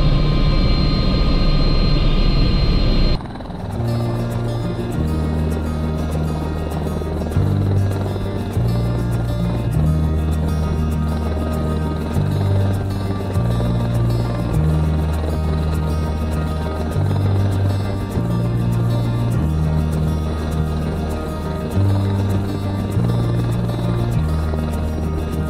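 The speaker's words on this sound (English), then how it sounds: "It's an Airbus H120, 5 passengers, driven by a 500 shaft horsepower jet engine." A loud, steady Airbus H120 helicopter turbine drone from its 500 shaft horsepower jet engine, with a pulsing low rotor beat, close and continuous throughout, after a brief different engine tone at the start.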